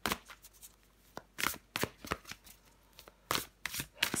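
A deck of cards is shuffled and a card is drawn during an astrology card reading, giving several loud, close riffling bursts separated by short pauses.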